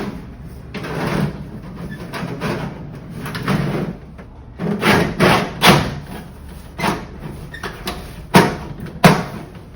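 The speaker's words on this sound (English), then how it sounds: "Now I'm going to reinstall the drawer slide panels" Removable drawer slide panels slid into a metal tool chest being made into a weld cart, with a run of scraping slides and sharp metallic knocks and thuds up close, ending in louder clunks.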